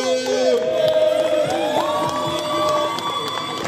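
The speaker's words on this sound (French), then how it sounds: "On peut applaudir vraiment avec les amis" A lively crowd cheers and whoops at a friendly games competition, with shouting voices and excited calls blending into a loud, continuous roar that carries on throughout.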